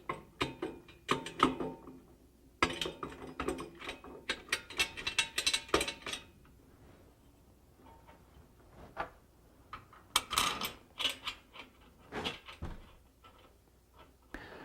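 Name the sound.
tightening long cap screws into locking plates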